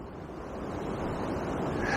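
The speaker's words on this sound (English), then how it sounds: "This wind is certainly picking up though" Rising wind buffets the microphone beside a river on a winter day, a steady broadband rush that swells gradually over two seconds with no voices.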